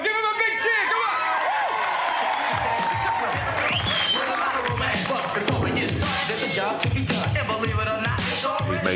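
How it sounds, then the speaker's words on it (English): Crowd at a BMX demo by Andy Ruffle on a Mongoose bike, cheering and whooping loudly and continuously, with an announcer's voice mixed in over the noise. "Give him a big cheer"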